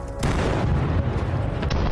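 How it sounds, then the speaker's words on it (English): Ammunition cooking off inside a burning armoured personnel carrier during a Russian-Ukrainian battle: sharp bangs and booms, one near the start and another toward the end, over a dense rumbling roar. "The fire made the ammunition explode quite quickly"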